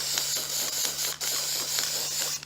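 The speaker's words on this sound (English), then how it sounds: "now I'm going to lightly spray the 2x4" A steady hiss of an aerosol can spraying black paint onto a wooden 2x4, continuous and close, with brief pauses between bursts.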